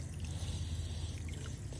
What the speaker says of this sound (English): careful on the splashing